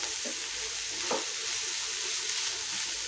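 Onion, ginger and garlic frying in a pan give a steady, close sizzle, with a few soft stirring scrapes breaking through the hiss and no voices.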